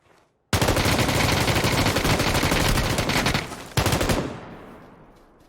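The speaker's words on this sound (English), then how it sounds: "that's some good shooting there" Sustained rapid automatic gunfire from the video game PUBG blasts loudly for about three seconds, pauses briefly, then another short burst fires and tails off into echo.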